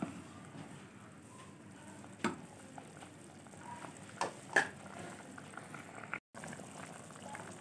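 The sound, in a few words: chickpeas boiling in a pot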